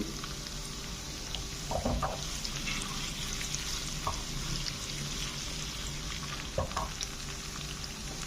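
Tempering spices for dal sizzle and crackle steadily in hot oil, a constant frying hiss with occasional pops and stirring scrapes.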